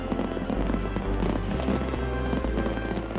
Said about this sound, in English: After several ball games a year, the Pirates put on a fireworks display.